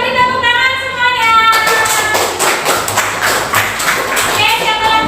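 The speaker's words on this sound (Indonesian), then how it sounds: "Kita beri tepuk tangan semuanya." A school class claps hands together in a classroom lesson, a fairly close burst of many small hands clapping in uneven rhythm after a tonal sound cuts off, with a teacher's voice briefly heard.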